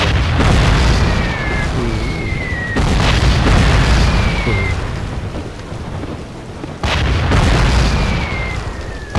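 Heavy booming explosions from bombing planes in the video game Call of Duty: Roads to Victory roll in a series, deep rumbling blasts with a thin whistling tone overhead, loud and continuous.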